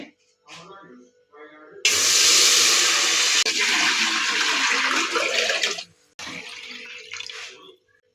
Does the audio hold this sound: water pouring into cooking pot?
yes